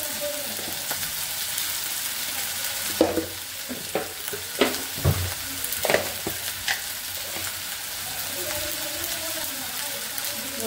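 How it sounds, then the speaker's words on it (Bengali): Ginger garlic paste, raw tomato, turmeric and chili powder being sautéed in a pan make a continuous sizzle, broken by several sharper scraping stirs of a spoon near the middle. "সুন্দর করে কষিয়ে নেব।"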